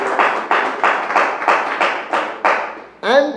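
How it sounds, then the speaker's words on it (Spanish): A church congregation claps together in a steady, rhythmic beat, eight or so strong pulses over a continuous wash of applause, close and loud, before a voice briefly rises at the end. "déle ese aplauso al Rey de la Gloria"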